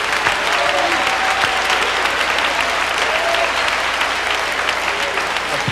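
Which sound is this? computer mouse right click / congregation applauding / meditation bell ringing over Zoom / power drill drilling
congregation applauding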